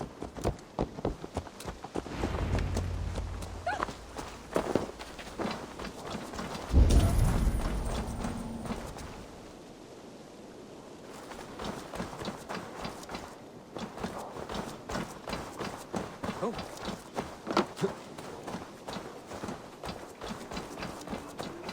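Horse hooves clip-clopping on the ground in Assassin's Creed Valhalla, a steady run of close, crisp hoofbeats with a brief pause in the middle, then resuming with clattering mechanical sounds alongside.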